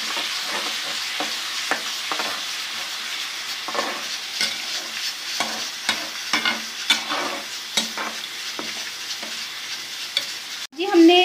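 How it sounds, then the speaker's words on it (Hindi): Garlic-ginger paste fries with onions in ghee, a steady close sizzle broken by frequent spoon scrapes and clinks against the pan, ending in a sharp louder clatter. "लहसुन अदरक का पेस्ट शामिल करते हैं 1 चम्मच, और इसको अच्छा सा फ्राई करते हैं 2 मिनट तक।"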